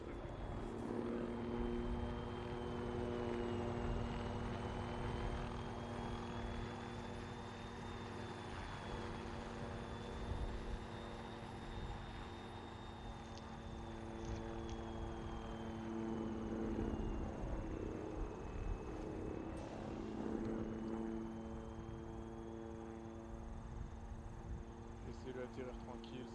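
An aircraft comes in to land in the Arma 3 video game, a steady droning engine and propeller whine running throughout beneath people talking over radio-style chatter.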